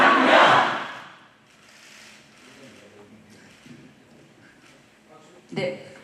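A crowd at a Gwangmyeong science high school campaign event shouts a single word in unison in a loud burst, then quieter talking follows, and a second short group shout rises near the end.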